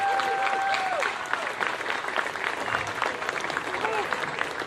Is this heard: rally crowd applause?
yes